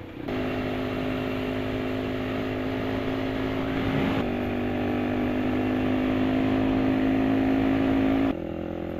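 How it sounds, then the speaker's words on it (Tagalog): A vehicle roars steadily along a mountain road on the Daang Kalikasan route in Zambales, its engine a loud, sustained drone with a brief shift midway and a cutoff near the end, with no talk over it. "Humaharurot."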